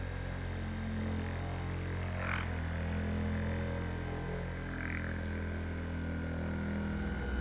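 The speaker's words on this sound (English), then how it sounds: "we can now set the level to high and start buffing" A cordless orbital buffer polishes wax on a Subaru Outback, a steady low electric hum running throughout at moderate volume with faint brief scuffs against the panel.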